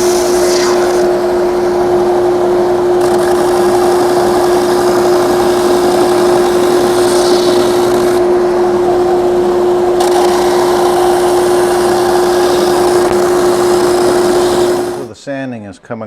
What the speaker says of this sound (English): now to the 80 grit, leveling out our sanding table